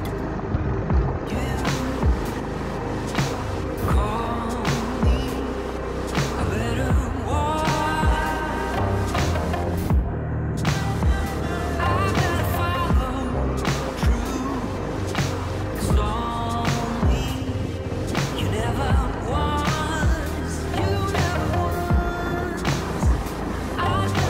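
A KTM 390 Adv-X motorcycle climbing a steep hill toward a hilltop cave, its engine loud and close with a continuous rough drone that rises and falls as the throttle varies, with brief gear changes and no speech.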